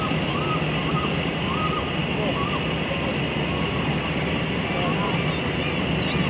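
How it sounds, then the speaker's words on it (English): Airplanes taxi and take off at a busy Vancouver airport, a steady loud engine roar filling the scene from a distance, with a person talking over it. "There's those two, one coming in, one getting ready to take off."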